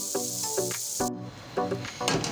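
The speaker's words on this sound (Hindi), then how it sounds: "यहाँ पे मैंने इसमें प्याज जो है वो पैन में डाल दिया है" Chopped medium-sized onion hisses loudly in very hot cooking oil in a pan for about a second before the sizzle cuts off abruptly, with short voice-like tonal bursts heard throughout.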